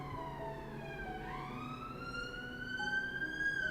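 Emergency vehicle sirens pass along a London street, a rising and falling wail sweeping clearly over a low background of road noise, moderately distant and steady, with no talking.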